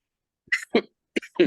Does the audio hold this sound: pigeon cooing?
no